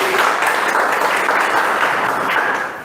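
An audience claps to welcome a speaker at a network marketing business meeting, dense and steady applause throughout that fades slightly toward the end.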